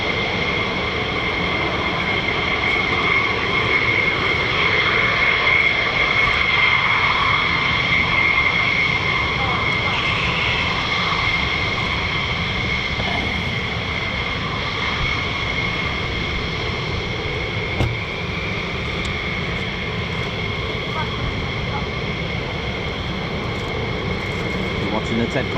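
F-15 and F-35 fighter jets at RAF Lakenheath produce a steady, loud, broadband roar that holds for the full stretch with a high whine on top, with no voices over it.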